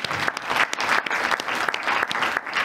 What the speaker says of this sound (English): you can give yourself a round of applause because you deserve it